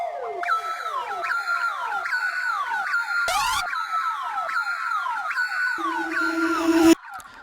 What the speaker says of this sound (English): I'm using a lot of this siren sound